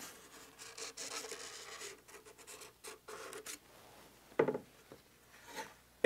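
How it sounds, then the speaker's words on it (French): A pencil scratches along a wooden template to trace a cut line on wood, with short faint rubbing strokes, small pauses and a light knock near the end. "Je trace la découpe à faire."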